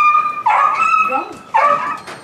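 Hunting hounds on a deer hunt whine and yip in two rising outbursts. The high, whimpering cries are loud and close, with a breathy murmur between them.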